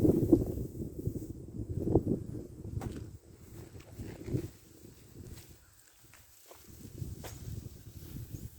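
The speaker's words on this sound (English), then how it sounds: "The wind is a blowing." Wind gusts through a garden during winterizing, a low rumbling buffet against the microphone that swells and eases over several seconds, with faint rustles and light knocks mixed in.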